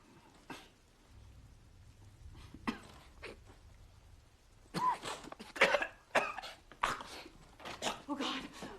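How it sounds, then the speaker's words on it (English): A sick man coughs in a series of harsh, wet bursts at home, close by and fairly loud, with quieter rustling and a few soft sounds before the coughing starts. "He's coughing up blood."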